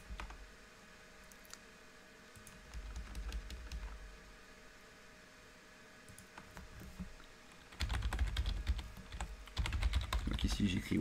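Code being typed on a computer keyboard in quiet bursts of clicking keystrokes, growing louder and faster toward the end, with a faint voice in the background.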